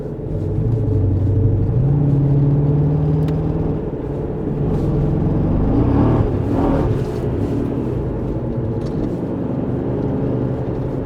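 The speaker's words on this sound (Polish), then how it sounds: "jakby nie chodził na wszystkich cylindrach" A Dodge Challenger engine runs with a rough, uneven rumble and irregular knocking, misfiring as if not running on all cylinders, steady and close throughout with no talking.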